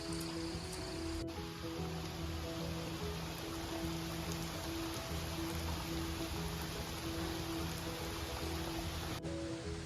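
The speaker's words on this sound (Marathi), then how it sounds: "पाऊस आयले जोरात आणि मी अडकून राहिलंय" Heavy rain in coastal Konkan falls with a constant hiss and patter, unbroken throughout, moderately loud with a faint tonal hum underneath.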